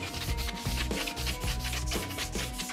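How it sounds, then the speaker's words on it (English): 80-grit sandpaper rubs back and forth across the cut end of a pipe in quick, even strokes, a close, scratchy rasping rhythm with no voices. "So just use a bit of sandpaper. This one is 80 grit, but you can also use a dish scour if you like."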